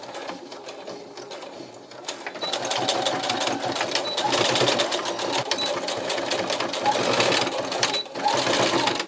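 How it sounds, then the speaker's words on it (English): A sewing machine runs in steady, continuous stitching while a belt loop is sewn onto the waist of a pair of pants being taken in at home. The whir grows slightly louder after the first couple of seconds and carries on unbroken, close up. "I'm just going to eyeball it and stitch it here"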